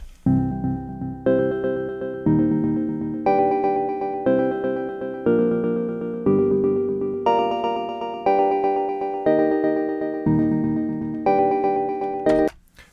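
A sample played through a LiSa sampler in ChucK plays a sequence of sustained, harmonically rich notes at an even pace, each changing pitch, loud and clear with no voices.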